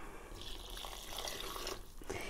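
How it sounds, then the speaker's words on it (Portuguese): Water poured into cement mix inside a small handmade cement pot, a steady close trickling and splashing that runs without pause for a couple of seconds. "E daí agora eu vou colocar água."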